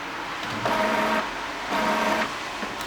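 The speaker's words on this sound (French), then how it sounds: "T'es une imprimante, t'es censé manger les feuilles." Printer feeding paper, giving two whirring mechanical runs of roughly half a second each with a steady hum between them, close and moderately loud.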